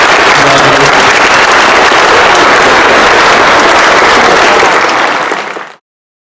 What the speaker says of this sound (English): we can have one last round of applause for all of our award recipients